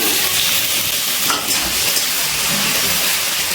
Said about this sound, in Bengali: পেঁয়াজ ভাজা হয়ে গেছে এবার এর মধ্যে দিয়ে দিচ্ছি কেটে রাখা টমেটো